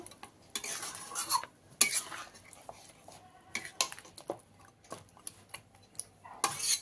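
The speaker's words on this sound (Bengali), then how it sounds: "এবারে এর মধ্যে আমি সেদ্ধ করে রাখা ডালটা দিয়ে দিলাম, দিয়ে ভালো করে মিশিয়ে নেব" A spoon stirs boiled moong dal into a fish head and spice mixture in a pot, with repeated scraping and clinking strokes in irregular bursts, close and moderately loud, no talking.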